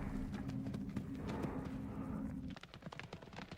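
Horse hooves clip-clop in a quick irregular rhythm during show jumping, layered over a steady low hum and crowd ambience, then thinning to sparser, closer hoof strikes.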